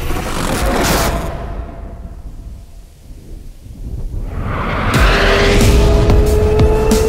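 The Hyundai RN22e electric race car sweeps through a corner, loud and close. Its whine fades as it moves away and then swells again, with tire noise alongside.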